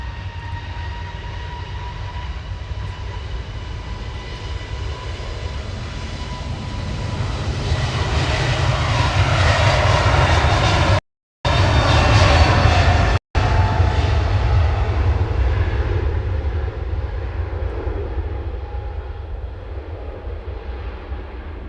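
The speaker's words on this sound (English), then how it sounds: "Turkish A321neo there. TC LST heading off to Istanbul with flight 1996." A Turkish Airlines A321neo jet takes off from Manchester Airport bound for Istanbul, its engine roar swelling loud and broad as it passes, then slowly fading away, with no talk over it.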